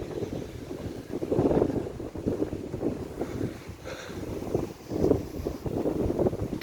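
Moderate northerly breeze gusting around 10 mph on Corralejo beach in Fuerteventura, buffeting the microphone in rumbling gusts that rise and fall over several seconds with no voices.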